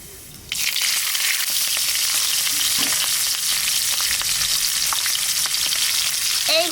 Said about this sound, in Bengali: তেলের পর দিয়ে দেবো কালো জিরা আর কাঁচা লঙ্কা।